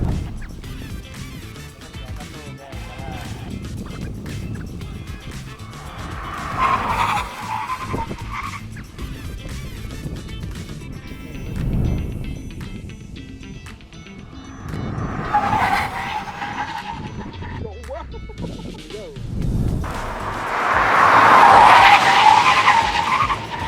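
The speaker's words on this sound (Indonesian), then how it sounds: "Sekarang kita buktikan dari kedua mobil ini mana jarak pengeremannya yang paling pendek" An Omoda E5 and a BYD Atto 3 braking hard in a stopping-distance test, with loud tire squeals and skids that rise in bursts between stretches of engine and road noise, the strongest skid coming near the end.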